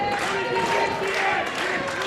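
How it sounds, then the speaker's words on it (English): Wrestling crowd at a live show cheering and applauding in a steady, dense wash of noise, with tonal whistles or shouts rising through it and no clear break over two seconds. "The crowd coming alive here for Airwolf"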